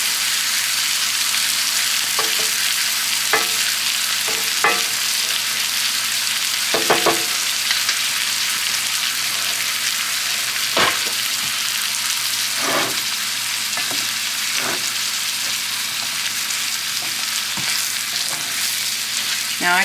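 Haddock, onion and asparagus sauté in a pan with a few spices, giving a steady close sizzle with scattered clinks and scrapes of a utensil stirring. No talk.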